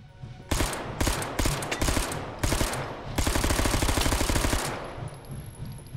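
Full-auto submachine gun firing in the VR game Hot Dogs, Horseshoes & Hand Grenades: several rapid bursts of loud close gunfire, then a long sustained burst that stops abruptly.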